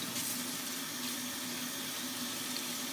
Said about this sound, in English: Washing my supplies with soap and running water,